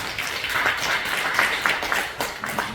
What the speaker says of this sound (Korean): 우리 예배팀을 위해서 우리 하는 격려의 한번 박수 주시겠습니다